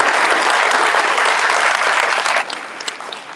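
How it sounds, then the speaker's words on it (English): Dense round of audience applause at a town hall meeting, loud and sustained before tapering to scattered claps near the end. "I just want y'all to give them another round of applause for working together"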